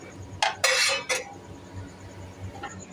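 A cooked paratha is lifted off a home griddle, with a few sharp clinks and scrapes of metal utensils packed into about a second, close and fairly loud, then quiet.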